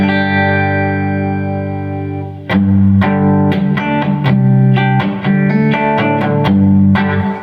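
Collings 290 electric guitar with Throbak P90 pickups through a Carr Super Bee 1x12 amp, a sustained chord ringing out, then a run of picked notes and chords with slight hair and reverb.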